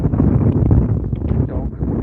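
Wind buffets a microphone out on the water while kayak fishing, a loud low rumbling roar that gusts unevenly across the brief stretch.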